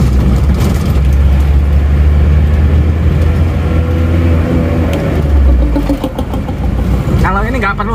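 An engine running smoothly after a piston ring replacement, a loud steady low hum that holds throughout, fading slightly toward the end.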